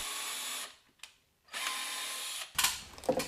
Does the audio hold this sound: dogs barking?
no